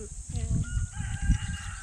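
A rooster crows loudly and close on a rural Philippine farm, its call rising and breaking repeatedly, with clucking and farmyard murmur underneath.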